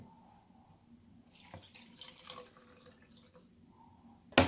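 Water trickling and splashing into a small Lumo aroma diffuser's reservoir as it is filled, quiet and close, with a few soft drips and a sharp click at the end.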